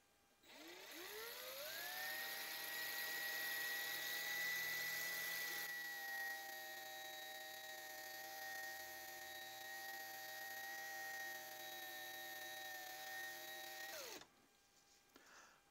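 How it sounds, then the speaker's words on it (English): A power drill spins up with a rising whine, holds a steady high-pitched whir for over ten seconds, then winds down abruptly and stops. "I'll do the same thing with the drill."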